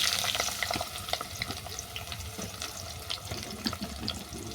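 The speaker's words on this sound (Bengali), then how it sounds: "ফোড়ন ভালো করে ভেজে নেওয়ার পর তুলে দিলাম কাঁকরোল" Teasel gourd hitting hot oil tempered with five-spice, giving a steady close hiss and crackle with scattered pops and sharp clinks throughout, no voices.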